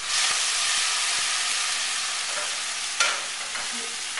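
Hot pan deglazed with white wine while cooking mushroom sauce for shrimp crostini, giving a steady loud sizzle and hiss that runs throughout, with light stirring scrapes and a brief louder flare near the end.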